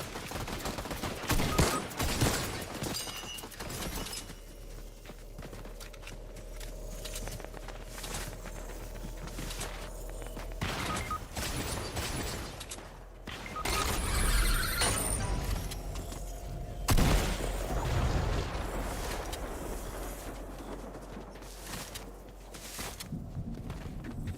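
Gunfire from a Fortnite match crackles in scattered bursts and single shots, some near and some farther off, with softer movement sounds between them and no clear talk.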